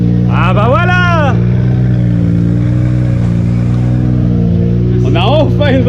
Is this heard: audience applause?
no